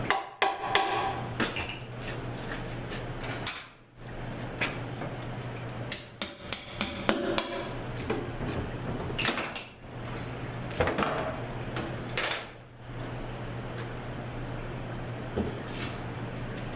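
Metal bolts are worked loose from the oil pan of a Mazda FN4AEL transmission, giving scattered light clinks and taps of tools and fasteners over a steady low background hum.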